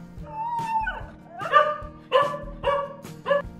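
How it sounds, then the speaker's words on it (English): A dog gives a run of short barks and yips, four or five close, distinct calls spaced about half a second apart, with no speech. "D for dog."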